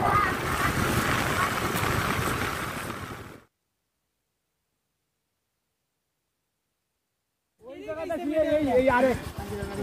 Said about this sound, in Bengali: আর বাতাসের শব্দ।